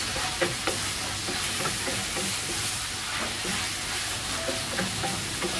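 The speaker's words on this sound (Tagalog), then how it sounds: "Kailangan igisa siya ng maayos." Tomatoes are sautéed for ginisang monggo in a pan, a steady close hiss of frying under scattered stirring scrapes and clinks, with no talk.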